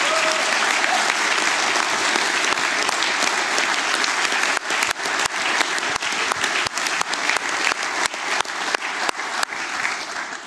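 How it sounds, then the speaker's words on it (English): Conference audience applauding the event organizers at a network operators' meeting closing session, a dense, sustained round of clapping that fills the room, loud and continuous, thinning into scattered individual claps toward the end. "So please have a big round of applause for all these 6 that make this possible."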